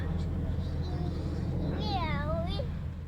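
A cat meows once, a drawn-out falling cry, with a quick second chirp after it, over a steady low hum and faint background chatter.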